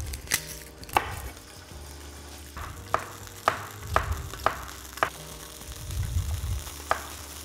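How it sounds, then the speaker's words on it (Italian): Anchovy fillets and garlic frying in olive oil in a pan, with a soft, steady sizzle broken by a string of sharp utensil clicks and knocks, close and moderately quiet, with no talking. "Accendiamo il fuoco con un bel giro d'olio e andiamo a mettere dei filetti di acciuga"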